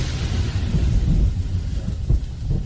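Low, continuous rumbling of a thunderstorm with heavy rain outdoors in a jungle, a steady murky roar with a few soft swells and thumps, no voices.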